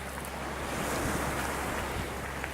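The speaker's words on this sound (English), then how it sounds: "And there's the entire beach here in the north of Italy, in the north of the Mediterranean." Surf rolling onto a Mediterranean beach in northern Italy near a river mouth, a steady broadband wash of waves mixed with heavy wind rumble on the microphone, with no talking.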